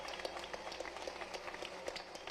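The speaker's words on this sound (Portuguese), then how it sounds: "eu quero uma salva de palmas para esses companheiros" A crowd at a union gathering applauds union members, with distant, dense clapping that comes as a steady rapid patter.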